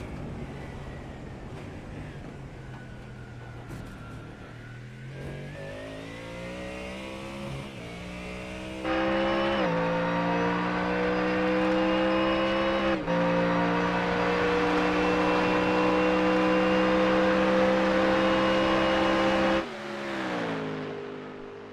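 A Mustang GT3 race car in a racing video game roars through its gears, engine pitch climbing and dropping with shifts, loud and sustained, then a sharp lift and brief drop near the end.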